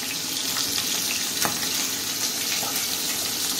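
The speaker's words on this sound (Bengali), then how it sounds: "মাছটা আমার প্রায় ভাজা হয়ে যাচ্ছে" Fish fries in a pan beside a home cooking setup, giving a steady close sizzle and crackle throughout with a few brief louder pops, no speech over it.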